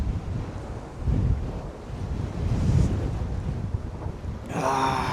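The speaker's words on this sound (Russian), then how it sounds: "Ветер жесткий." Harsh wind buffets the microphone in steady gusting rumbles during a cold, blizzardy stop on a long Vladivostok–Yakutsk road trip, ending in a brief sharper rustle.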